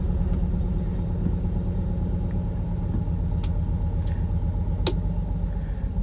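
Engine of a restored 1970 Fiat 500 Lusso 110F running without choke, a steady, loud, low rumbling idle that continues throughout, close by, with a few faint clicks over it and no talking.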